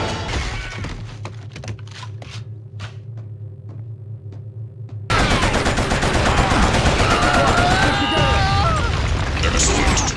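Heavy gunfire and booming blasts as the Earth fleet fires on a space station in the PlayStation 2 game Killzone, a sparse, steady rattle giving way after a few seconds to a dense, loud continuous barrage.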